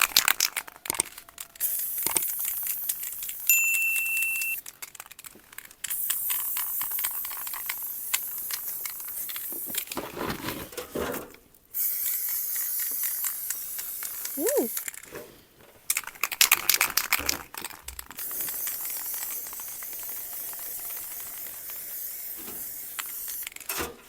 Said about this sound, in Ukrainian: краска, звичайна. В такому ось балончику